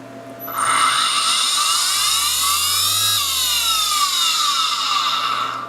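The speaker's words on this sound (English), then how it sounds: "we're going to start up the motor and see what happens" A CNC spindle motor driven by a VFD spins up with a rising high-pitched whine, holds a steady loud whir, then winds down as the pitch falls, heard alone.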